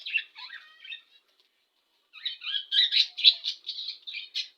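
Pet budgerigars chattering and warbling nearby, a quick burst of high chirps, a short pause, then a louder, busier run of squawky calls with no talk over them.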